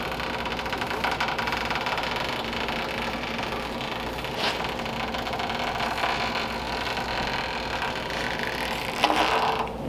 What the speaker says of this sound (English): Hear the panel popping.